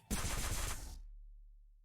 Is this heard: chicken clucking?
no